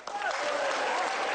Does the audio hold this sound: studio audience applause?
yes